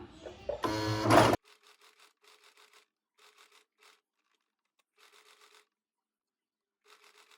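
Short bursts of rapid mechanical stitching from a sewing machine sewing a neck design, each run lasting about a second with quiet pauses between, following a brief louder rustle at the start.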